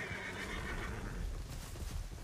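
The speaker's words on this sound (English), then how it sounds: "There, your horse is leaving, come back." A horse in a video game neighs and whinnies at moderate volume over a soft clip-clop of hooves, with no talk.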